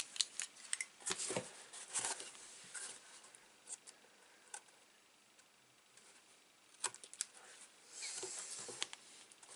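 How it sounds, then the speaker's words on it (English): Small scissors snip paper in short, quiet bursts, irregular cuts and rustles spread across several seconds in a quiet room. "No, I need smaller scissors."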